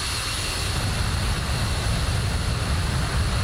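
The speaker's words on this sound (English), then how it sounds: "Both engines now up and running" The twin Pratt & Whitney jet engines of an F-15E Strike Eagle in DCS World run at a steady idle after startup, a loud, continuous broadband roar with a high whine and no talk.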